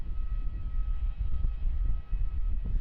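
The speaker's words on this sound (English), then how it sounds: "This aircraft flying QANTASlink flight 1275, registered Victor Hotel X-ray 4 Alpha, coming in from Canberra." QANTASlink Airbus A220-300 jet arriving at Melbourne Airport, a steady low engine rumble with a faint high whine, heard from a distance and fairly quiet, swelling slightly throughout.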